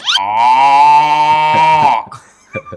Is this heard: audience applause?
no